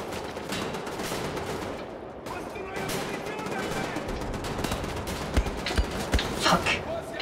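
Gunfire in the shooter game Wolfenstein: The New Order, a steady stream of rapid shots with sharper bursts toward the end, heard under a player's voice and game noise.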